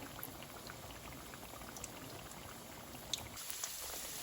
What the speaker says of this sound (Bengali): এই যেখানে আমার চিকেন ফ্রাই ভাজা হচ্ছে ইফতারের জন্য আর এই জায়গাতে আপনার পাকোড়া ভাজা হচ্ছে গরম গরম